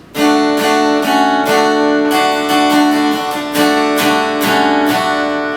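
Strummed guitar chords ring out in a steady rhythm, several bright strokes alternating between two chords, close and clear with no voices.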